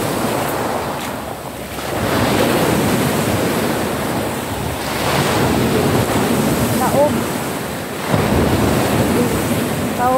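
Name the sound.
sea waves and water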